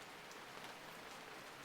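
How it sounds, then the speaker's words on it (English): Rain falling on a Monday evening on the Isle of Wight, a faint, even hiss of drops heard from a distance, steady and unbroken, with no speech. "Rain. Never rains on the Isle of Wight."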